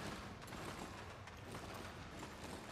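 Gunfire in a team shooting video game crackles as rapid overlapping bursts and mechanical clicks, fairly quiet and continuous across the short stretch.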